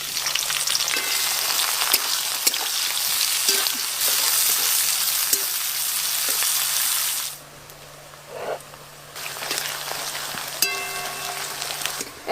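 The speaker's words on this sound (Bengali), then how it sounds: "এই দেখুন পেঁয়াজগুলো ভাজার পর গোল্ডেন ব্রাউন কালার চলে এসছে।" A bowl of chopped onions frying in hot oil for chicken biryani, a loud continuous sizzle with occasional stirring clinks, dropping briefly quieter midway before the crackling resumes.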